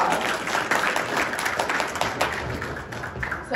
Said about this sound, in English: let's give all of these students a huge round of applause.